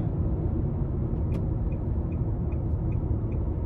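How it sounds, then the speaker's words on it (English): A 2024 Nissan Sentra SV Premium with a 149-horsepower 2.0-liter four-cylinder and CVT accelerates on a test drive, a steady low engine drone and road rumble heard from inside the cabin, with a few faint clicks. "starting the test drive in this Nissan Sentra SV Premium, pretty decent pickup"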